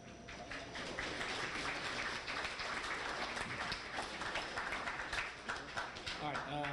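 Audience applause at a school winter sports banquet honoring the girls basketball teams, a dense, steady wash of clapping filling the room for several seconds, loud and sustained with crowd murmur mixed in.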